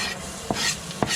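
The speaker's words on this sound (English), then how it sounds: "Now we cook some garlic." Garlic fries in a pan for Thai pad thai, with a soft sizzle under two sharp clinks of a utensil stirring against the pan.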